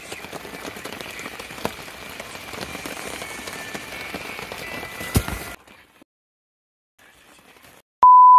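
Steady rain patters on a surface for several seconds, then cuts out to near silence before a sharp electronic beep tone sounds at the end.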